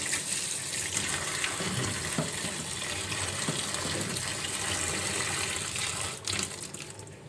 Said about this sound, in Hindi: उसको भी अच्छी तरह से वॉश कर लेंगे और फिर ऐड करेंगे।